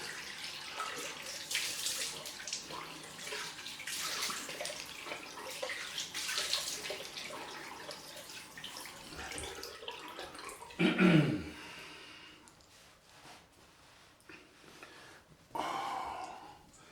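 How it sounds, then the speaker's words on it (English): Cold water running from a tap for a rinse during a head shave, a steady moderate stream with splashing and a brief louder gush partway through, plus occasional breathing and snorting nearby. "Right, let's get on with the cold rinse."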